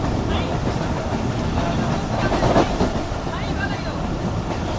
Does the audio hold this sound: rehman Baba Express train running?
yes